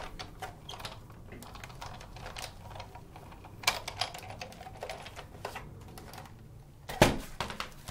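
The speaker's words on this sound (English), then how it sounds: "And I'm going to run it through the Big Shot." A Big Shot die-cutting machine is cranked by hand, pulling a stack of cutting pads and an embossing folder holding Whisper White cardstock through its rollers. Dense, rapid ratcheting clicks run steadily and close up, with sharper clacks near the end.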